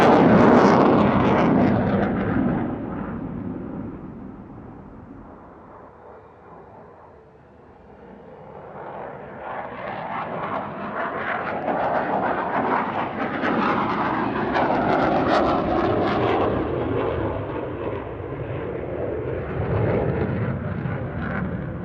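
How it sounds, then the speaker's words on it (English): A Belgian Air Force F-16 Fighting Falcon jet flying a solo display at an airshow over Izmir, Turkey, its roaring engine loud at first, fading as it passes, then building again into a sustained rumbling roar. "The first of the legendary F-16 Fighting Falcons to take to the skies over Izmir"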